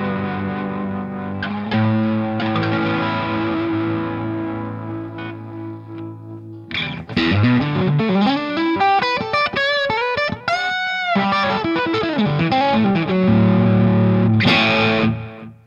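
Costalab Dual Drive overdrive pedal on electric guitar, heard alone: sustained overdriven chords ring out, then a busier run of gritty notes and bends, closing on another held distorted chord.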